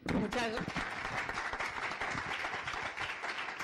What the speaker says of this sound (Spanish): Bueno, un aplauso para Elena.